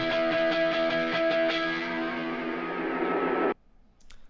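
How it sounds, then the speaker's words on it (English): A dense, distorted synth texture through a delay whose time shifts from eighth to sixteenth notes, smearing into a warping, fluttering wash that swells for about three and a half seconds, then cuts off abruptly. "I changed the time from 1/8 to 1/16 here, so you'll hear like kind of a warp here"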